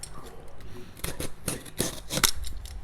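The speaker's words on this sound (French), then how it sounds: "donc on va déballer ça" A collector's edition package being unboxed, with close crinkling, tearing and snipping of packaging in quick bursts while a person talks over it.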